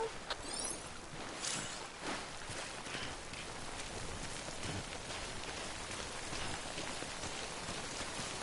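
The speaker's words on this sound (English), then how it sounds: "Don't stay out in the rain any longer than you have to." Steady rain falls in the video game Death Stranding, a dense continuous hiss of drops striking surfaces, with a few brighter splashes near the start before it settles into an even downpour.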